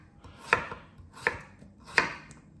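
A knife chops through stacked potato planks, cutting them into julienne on a board. Three crisp, separate chops land about 0.7 seconds apart, close and clear, with no talk.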